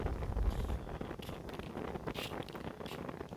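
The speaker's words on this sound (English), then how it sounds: "It's getting really windy." Wind gusts outdoors buffet the microphone with low rumbling bursts, strongest early on, then continue as a rough, fluttering rush with faint rustling through the rest.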